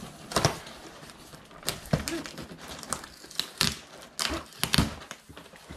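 A cardboard package box with tape and paper packing is ripped open by hand close by, a run of crinkling, tearing and crumpling bursts in an uneven rhythm, with no clear talk over it.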